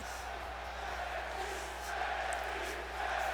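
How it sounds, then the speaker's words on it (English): A virtual arena crowd in the wrestling video game WWE 2K20 chants NXT, a steady, dense roar of many voices that holds throughout at even loudness. "thrilled about Ronda Rousey, it looks like they're in support of her by chanting NXT potentially, or they just enjoy NXT in general"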